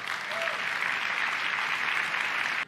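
An audience at an Apple product event breaks into sustained applause, a dense, steady wash of clapping from a large crowd that cuts off abruptly at the end.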